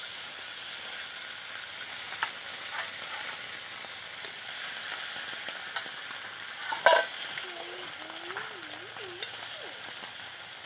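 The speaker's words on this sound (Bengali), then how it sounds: "তেল গরম হয়ে গেছে, আমি এবার মাছ ছেড়ে দিচ্ছি।" Tilapia fish fries in hot mustard oil with a quiet, steady sizzle throughout. A brief utensil clatter lands midway.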